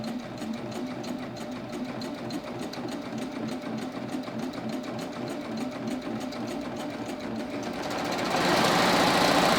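A Baby Lock Ovation serger stitches fabric with a fast, even mechanical whir and a rapid needle rhythm, close and loud, rising in intensity near the end as the machine speeds up. No one talks over it.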